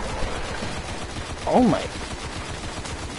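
Repeated gunshots from heavy-recoil weapons in the video game Destiny pop steadily in the background while a player exclaims over them.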